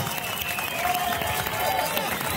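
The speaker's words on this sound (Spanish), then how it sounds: "Esto se aplaude, señores." Crowd applause at a village fiesta and jaripeo in San Pedro Cajonos, Oaxaca: a steady, dense wash of clapping and crowd noise that holds evenly throughout, with voices mixed in.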